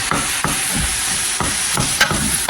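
Ground meat browning for chili in a pan, a close steady sizzle broken by rhythmic scraping stirs about every half second.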